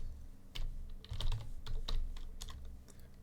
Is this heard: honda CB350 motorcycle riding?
no